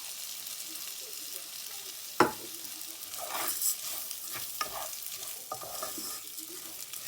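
Rice and chorizo fry in a pan with a soft, steady sizzle, broken by a few scraping stirs of a utensil against the pan, close and fairly quiet.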